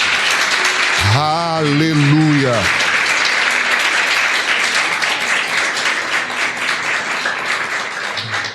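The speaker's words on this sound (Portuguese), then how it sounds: "Eu queria que você aplaudisse a ele bem forte." A church congregation applauds loudly and steadily from start to finish, the dense clapping briefly topped by a single voice calling out near the beginning.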